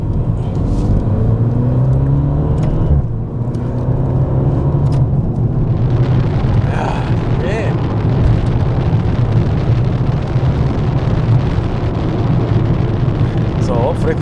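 Maserati Ghibli hybrid GranSport in sport mode with the rear exhaust flaps open, a loud continuous engine drone that rises under hard acceleration and fills the cabin without a break.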